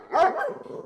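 A pet dog barks once indoors at home, a single sharp close bark that trails off quickly.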